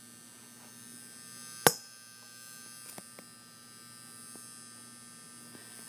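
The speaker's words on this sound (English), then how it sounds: "As you can hear specifically, the bulb is pretty loud. It goes eh. See? Buzzing is soft, but after a little while, it will stop after the bulb reaches full brightness." Old commercial electric light bulb giving a soft, steady buzz and hum as it warms up indoors, with a sharp click near the start and a few faint ticks over the drone.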